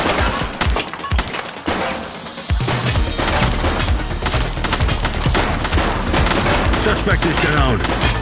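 Rapid automatic gunfire in The Precinct, a police action game, dense bursts of shots and booms rattling almost continuously after a brief lull, with voices calling out over the shooting.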